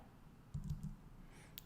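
Two quick, quiet taps of the FN key on a computer keyboard come in close succession against a faint background hiss.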